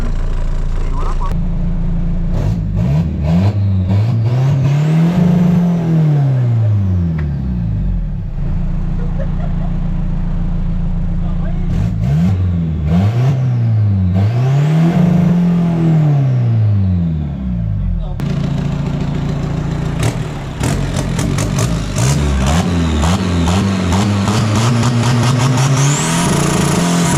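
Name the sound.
car engine revving against rev limiter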